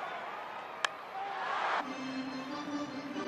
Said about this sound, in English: Cheer.